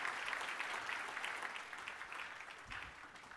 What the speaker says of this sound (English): So everybody give a round of applause for George.